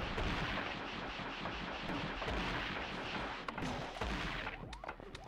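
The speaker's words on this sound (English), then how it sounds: "Please let the missiles hit these things." Missiles strike enemies in the Gato Roboto video game, a dense continuous barrage of explosive booms and blasts rumbling loudly throughout, with a few sharper hits near the end and no talk.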